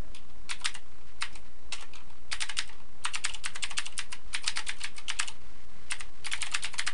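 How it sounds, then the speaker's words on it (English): A web address is typed on a computer keyboard, with quick, close key clicks in uneven bursts and short pauses and no voices. "I'll go to a new tab and type in my address."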